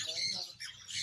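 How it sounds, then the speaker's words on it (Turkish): Shrill, harsh parrot squawks, several in quick succession, fairly close and loud over a murmur of background voices at an exotic animal market in Bangkok. "Burada papağanlar var."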